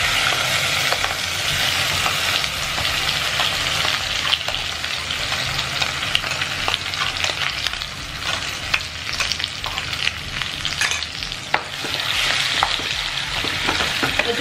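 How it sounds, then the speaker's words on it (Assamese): Spice paste with garam masala sizzles and fries steadily in a hot pan, a continuous crackling hiss with scattered spits and stirring scrapes, close and even throughout, with no voices. "এতিয়া ভালদৰে ভাজিব লাগিব।"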